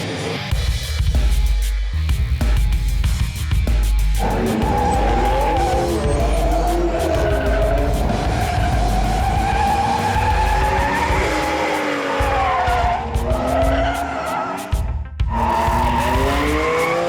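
A 1971 Plymouth Cuda with a 392 Hemi drifts sideways, its engine roaring loudly while the tires squeal in long, wavering screeches, the engine note rising and falling over a sustained run.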